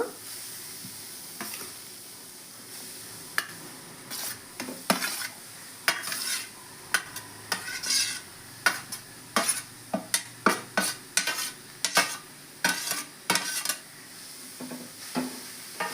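Grated carrot stirred and frying in a hot pan for halwa, with a steady soft sizzle and repeated sharp spatula scrapes and taps against the pan throughout, close by, no talking.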